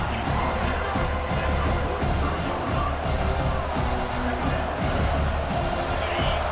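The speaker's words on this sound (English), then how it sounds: "this home crowd is fired up and ready to make a difference today" Home crowd at a Syracuse vs Tennessee college football game, a dense steady roar of stadium noise and cheering filling the background throughout, with a commentator's voice running over it.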